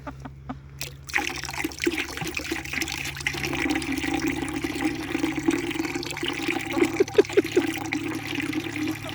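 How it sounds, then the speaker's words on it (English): Water pours into a chickens' water dish in a steady trickling stream, close by, lasting throughout with a brief quieter start; no talk over it. "Sometimes they peck the water as it's pouring."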